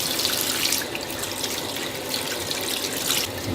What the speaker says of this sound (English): take these here taters and just kind of wash them off a little bit